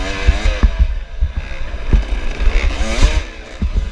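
Two-stroke and four-stroke dirt bikes race on a trail at a WNYOA off-road event, one rider passing another, with a steady close engine drone and repeated sharp revving bursts.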